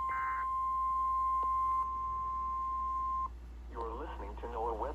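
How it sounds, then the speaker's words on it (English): NOAA weather radio alarm test tones from the Pittsburgh, Pennsylvania station: a loud, sustained single-pitch beep holds for about three seconds, then cuts off as a voice begins speaking. "The preceding tone signals were a test of the alarm device of this weather radio station"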